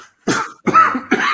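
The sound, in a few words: cough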